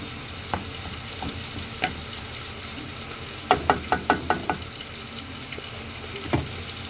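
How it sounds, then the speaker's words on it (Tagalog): Octopus sautéing in butter with garlic and oyster sauce in a pan, a steady sizzle broken by sharp clacks of a spatula, including a quick run of stirring scrapes, with no voices. "Nagluluto ako ngayon guys ng kugita na ginisa natin sa butter."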